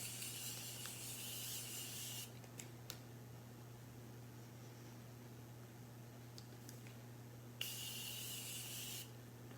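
Morphe setting mist sprays in two short bursts of fine, airy hiss, one starting after two seconds and another near the end, over a steady low hum of room noise; no one talks.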